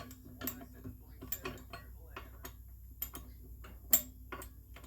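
Flywheel pawls on a G272 chainsaw clicking as the flywheel is turned by hand, a sparse, irregular series of small sharp ticks and metallic clicks, close and quiet, with one louder click near the end.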